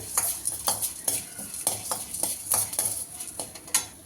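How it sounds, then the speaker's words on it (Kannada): Coriander seeds, about three spoonfuls, tossed and stirred in a hot pan, giving a dry rustling sizzle with repeated scraping strokes of a spoon against the metal, close up and steady with no talking. "ಧನಿಯಾ ಒಂದು ಮೂರು ಸ್ಪೂನ್ ತೊಗೋತಾ ಇದ್ದೀನಿ ನೀನೆ ಚೆನ್ನಾಗಿ ಫ್ರೈ ಮಾಡ್ಕೋತಾ ಇದ್ದೀನಿ"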